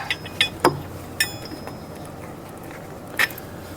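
A ratchet loosens the mounting bolt on the spotlights of a KTM 1290 Super Adventure motorcycle, giving a few quick, separate clicking bursts close by, with quiet pauses between them.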